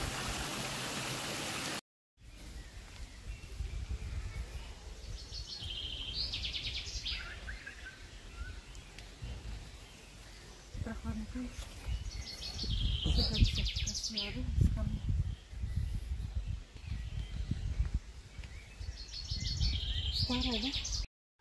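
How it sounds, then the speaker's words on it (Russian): Small birds chirp and sing in the Kurpark in Gernsbach, Germany, in bright bursts scattered over a low murmur of running water and outdoor background noise. A voice speaks briefly. "Птички поют."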